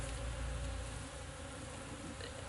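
Honey bees buzz in a dense, continuous drone during a colony cut-out removal, a steady close hum with no voices.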